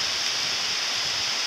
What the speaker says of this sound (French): Il pleut beaucoup trop fort.